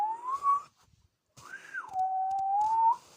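A person whistles a wavering tune with their lips, alone and close by: one short whistled phrase, a brief pause, then a longer phrase that rises and falls before holding a steady tone.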